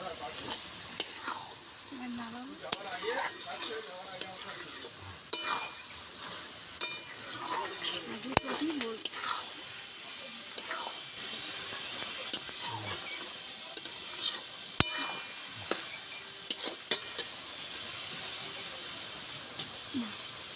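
Cabbage curry being stirred in a pan, spoon scraping and clacking in repeated strokes over a steady sizzle, close and fairly loud, with faint voice sounds.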